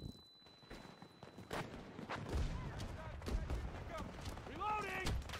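A grenade blast in the shooter game Battlefield 2042 booms out amid a busy stretch of sharp gunfire-like bangs and rumbling impacts, loud and close, while a voice talks over the end of the battle noise.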